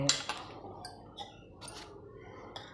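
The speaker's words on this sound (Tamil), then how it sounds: "மூடியை போட்டு" A metal lid set onto a South Indian filter coffee maker after hot water is poured in: a bright clink at the start, then a few light metallic taps and rattles, close and otherwise quiet.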